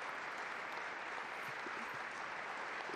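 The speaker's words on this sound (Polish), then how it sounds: "Zgromadzeni pielgrzymi w auli pozdrawiają oklaskami przybycie Ojca Świętego" Pilgrims gathered in the Paul VI audience hall applaud the arrival of Pope Francis at a general audience, a dense, even wash of clapping that holds steady throughout without any speech.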